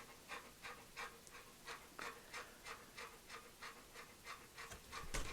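A dog pants heavily in quick, rhythmic breaths, about two per second, close but faint, with no talking.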